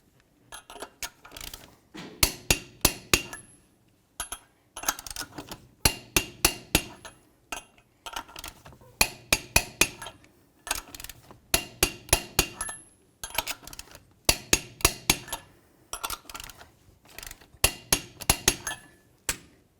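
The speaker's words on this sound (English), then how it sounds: "we can go ahead and torque these to 120 foot-pounds in a crisscross manner." Rapid bursts of sharp metallic ratcheting clicks from a torque wrench snugging the front wheel lug nuts to 120 foot-pounds in a crisscross pattern on a 1988-1994 Chevrolet K1500 pickup, coming in repeated clusters with short pauses between, close and clear.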